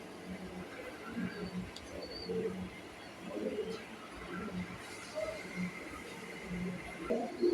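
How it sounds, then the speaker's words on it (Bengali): Two barren Chomok pigeons coo in low, intermittent phrases, fairly close, with a voice speaking over parts of it. "তারপরে নিয়ে আসলাম 2টা চমক কবুতর"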